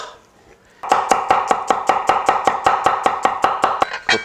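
A knife chops onion on a board in quick, evenly spaced strikes, about sixteen crisp close-up thuds in a steady rhythm after a short quiet start.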